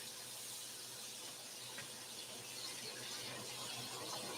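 Two pounds of already-cooked shrimp sizzle steadily in a hot pan, a continuous even hiss of frying that stays level and fairly close throughout, with no talking.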